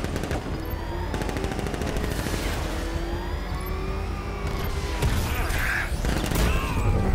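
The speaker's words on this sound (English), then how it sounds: "Taking fire!" Dense automatic gunfire rattles in rapid bursts during Batman Arkham Knight gameplay, set against a busy game soundscape with a distant siren-like tone.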